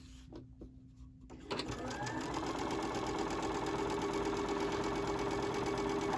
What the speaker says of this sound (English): we're going to stitch from where the strips meet, from corner to corner